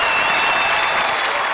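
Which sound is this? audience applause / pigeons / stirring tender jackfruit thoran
audience applause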